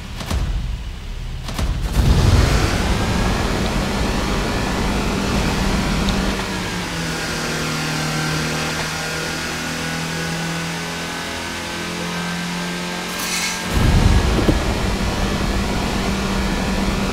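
A Jeep, a Corvette and a Tesla Model S race in a Roblox driving simulator, with a sustained engine drone and rising revs between two louder bursts near the start and end.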